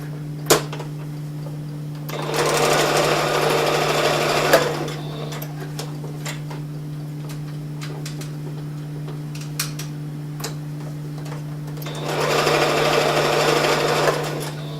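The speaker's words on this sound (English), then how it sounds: "I'm gonna stitch everything except for one edge." A sewing machine runs in two steady bursts of fast stitching on a fabric travel neck pillow, a constant hum beneath and small clicks between the runs.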